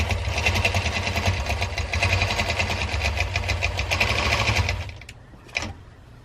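Longarm quilting machine stitching binding onto a quilt, a fast steady mechanical whir and needle chatter running continuously, close and loud, then stopping abruptly near the end, followed by a brief clunk.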